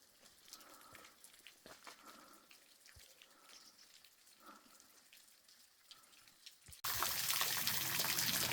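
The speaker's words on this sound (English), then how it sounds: "It's like the smallest waterfall we've seen this year." A tiny waterfall trickles and drips in a gorge, faint and uneven, before a sudden loud rush of broadband noise covers it near the end.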